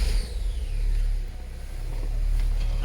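A Saab car engine turns over and settles into a steady low idle, a close, continuous rumble with slight rises and dips and no voices.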